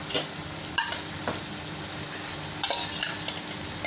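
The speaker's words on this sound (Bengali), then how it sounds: "এবার আমি ডিমগুলো সব দিয়ে দিলাম। ভেজে রেখেছি ডিমগুলো।" Fried eggs dropped into hot masala oil for an egg curry, giving a steady close sizzle with a few sharper clatters and pan bumps as they go in, no voices.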